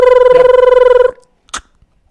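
A telephone rings with a steady electronic trill in several rapid pulses for about a second, then stops; a brief click follows, as when placing a call to a friend, with no talking.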